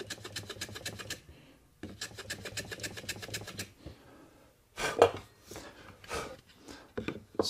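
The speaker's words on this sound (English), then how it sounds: "I need to chamfer this back edge" A chamfer being cut on the back edge of a wooden shooting board, heard as bursts of rhythmic rasping strokes, close and fairly loud, with pauses between passes and a few clunks and handling knocks near the end.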